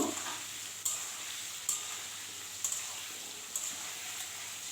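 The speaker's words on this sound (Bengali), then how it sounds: "আমি আলুটা লালচে করে ভাজা করব" Potatoes with salt and turmeric sizzling steadily in hot oil as they brown, a constant frying hiss broken by a few sharp stirring scrapes at fairly regular intervals.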